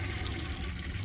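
A toilet flushes in the horror game City of Nightmares, a brief steady rush of running water heard close and alone.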